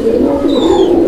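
A rajgola pigeon puffs itself up and coos loudly and close, with a sustained throaty burbling call that fills the second, and no one talks.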